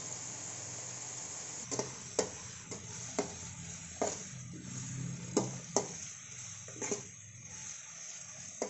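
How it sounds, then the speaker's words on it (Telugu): Onions and green chillies frying in a pan: a steady soft sizzle runs throughout, broken by repeated light scraping and clinking taps of a spoon stirring against the pan, with no talk. "దోరగా వేయించుకోవాలి ఉల్లిపాయలు పచ్చిమిరకాయలు ఇలా బాగా వేగాలండి"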